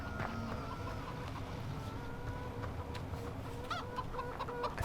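Chickens cluck in a Farming Simulator 2015 farmyard, several birds making repeated short clucks at moderate distance over a steady ambient bed.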